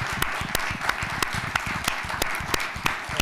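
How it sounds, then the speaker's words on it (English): Small audience at a university forum on democracy and the press gives a modest round of applause, a thin patter of clapping with a few loud, distinct nearby claps standing out at regular intervals. "So let's give them a little applause."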